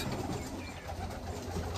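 Many pigeons cooing together in a pigeon loft near Baruipur, a soft, continuous murmur of low calls with steady background hiss and no talking.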